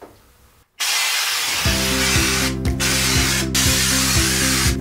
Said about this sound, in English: So as I spray over these walls that have a light texture on them